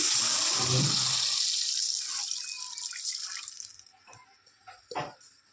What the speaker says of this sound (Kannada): ಒಂದು ಮೂರು ಬೌಲ್ ಆಗುವಷ್ಟು ನೀರನ್ನು ಹಾಕ್ಕೊಂಡಿದ್ದೀನಿ